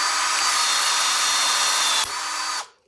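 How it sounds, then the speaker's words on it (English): A Yuhtech power riveter pulls a rivet in one stroke, giving a steady high motor whine that dips briefly near the end before cutting off, close and loud with no talking. "pull the rivet, and it's done that in one stroke"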